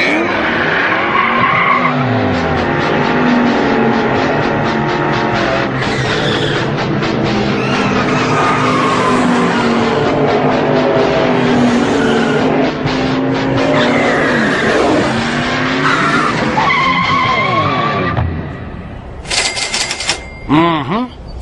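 A cartoon race car screeches and skids loudly along a track, its engine whining under sharp tire squeals, with brief dialogue in Portuguese and a burst of high, clattering effects near the end.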